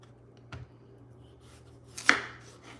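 A knife chops potatoes on a cutting board for chilli, with two separate crisp cuts about a second and a half apart in a quiet kitchen.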